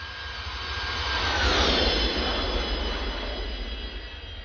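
Boeing 727-200 jet engines in a flight simulator game roar steadily, a broad rushing whine that swells slightly in the middle and then holds, heard alone without talk.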